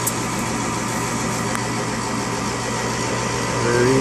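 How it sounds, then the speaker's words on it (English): Furnace inducer motor in a package unit running at a steady, close, even hum, alone with no talking. "Inducer motor came on."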